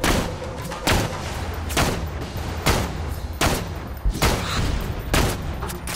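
Gunfire from the video game Borderlands 2, a run of loud, sharp shots fired in an uneven rhythm roughly every half second, each crack ringing briefly over a continuous battle din.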